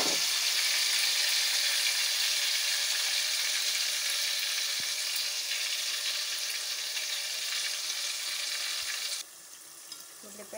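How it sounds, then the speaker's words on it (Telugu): Onion masala paste with green chillies and cumin frying in a hot pan, a steady loud sizzle that holds for most of the stretch before dropping away abruptly near the end. "పచ్చిమిరపకాయలు వేగిన తర్వాత ఉల్లిపాయ మసాలా ముద్ద"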